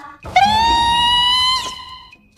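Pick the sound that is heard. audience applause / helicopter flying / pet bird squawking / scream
scream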